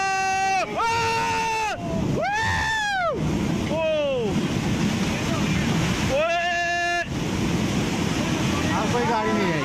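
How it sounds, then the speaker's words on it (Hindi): Flash-flood water from a cloudburst rushes through a parking lot in Dharamshala, Himachal Pradesh, carrying away cars, making a loud continuous roaring wash while several voices shout and call out over it. "पार्किंग में पानी का ऐसा प्रहार हुआ कि एसयूवी बह गई।"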